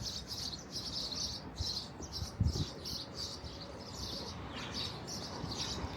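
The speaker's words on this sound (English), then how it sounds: "You hear the birds chirping?" Small birds chirp in quick, repeated bursts throughout, faint and somewhat distant, over a low outdoor rumble at a beachside campground, with no talking.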